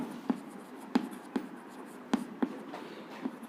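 Writing on a board during a chemistry lesson on reaction rates: a quiet, close sequence of short, irregular taps and strokes, about seven over a few seconds.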